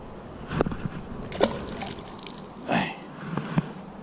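Water sloshes and splashes as a bluegill sunfish is released back into Cherokee Lake from a fishing spot, a few soft splashes close by in a quiet outdoor setting.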